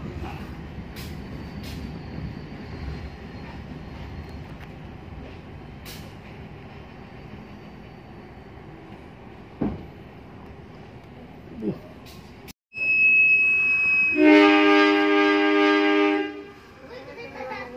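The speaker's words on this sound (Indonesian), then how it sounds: "kereta kembali diberangkatkan dari stasiun Leles" Cibatu local train pulling out of Leles station: a low rumble at first, then a sharp hiss or thump, followed by a loud, sustained multi-tone horn blast near the end.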